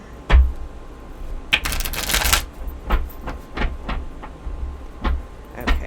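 Tarot cards being shuffled in a few quick riffles and taps, with sharp crisp bursts between quieter handling noises.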